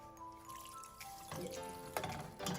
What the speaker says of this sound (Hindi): वो भी तकरीबन 1 कप पानी डालते हैं आप